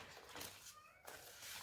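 Pet cats meow indoors: one drawn-out, faint meow rises from steady background noise, with no talking.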